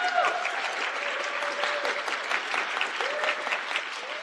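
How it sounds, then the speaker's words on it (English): A concert audience at a Florida Southern College combined choirs performance applauds a choir singer, with dense, steady clapping throughout and no break. "she deserves another round of applause"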